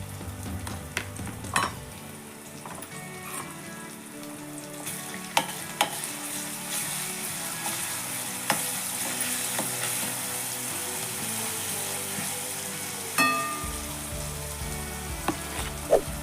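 Ginger garlic paste and onion fry in a pan with a constant, fairly loud sizzle, punctuated by spatula scrapes and clinks against the pan, with a low hum at the start and end.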